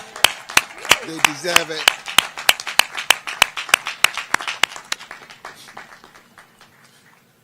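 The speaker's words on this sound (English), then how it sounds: "Let us now recognize our doctoral degree recipients with another round of an applause." Sharp, evenly spaced claps close by honor doctoral degree recipients at a Millersville University commencement, with a short spoken remark early on, before the clapping gradually fades out.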